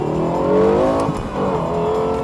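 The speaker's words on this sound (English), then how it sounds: "as I drive around here on the racetrack in the LFA" A Lexus LFA circles a racetrack, its engine revving loudly with rising and falling pitch as it accelerates, the high-pitched tone steady and close throughout with no one talking.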